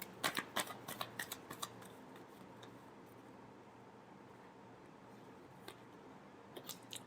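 Tarot cards riffle-shuffled in quick crisp bursts at the start, then a quiet pause and a few faint flicks and taps near the end, close and soft.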